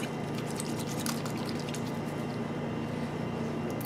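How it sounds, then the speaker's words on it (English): Wet soaproot plant lathered between hands with a little water, giving a soft continuous squishing, dripping sound, close and steady with no talk. "Lather this stuff up just like soap."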